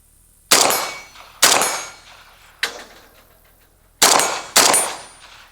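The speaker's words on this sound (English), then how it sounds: "Just gonna put some initial rounds here through it, make sure that it's working." A Bulgarian RPK rifle fires single 5.56 rounds outdoors at steel gongs, five sharp loud reports spaced about a second apart, each with a ringing metallic clang and decaying tail.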